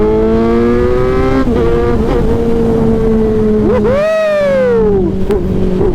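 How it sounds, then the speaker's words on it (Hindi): Motorbike engine pulled hard on an open road during lockdown: a steady, loud close-up drone, then a sharp rev that climbs and falls before settling back, with no talking. "चलो भाई खींचते हैं बाइक को।"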